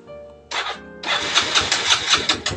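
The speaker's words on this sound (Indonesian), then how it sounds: "Tuh langsung hidup motornya." A motorcycle engine is started after a brief earlier attempt, catches and then runs at a rough, pulsing idle, close by and fairly loud.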